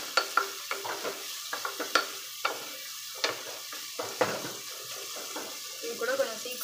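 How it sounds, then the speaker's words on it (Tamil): Onions browning in a pan for vegetable biryani (kuska) sizzle steadily while a spatula scrapes and taps irregularly against the pan; someone talks over the cooking. "வெங்காயத்தை வந்து பார்த்தீங்கன்னா நல்லா ஒரு ப்ரௌன் கலரில் வந்து நல்லா வதக்கி விட்டுக்கலாம்"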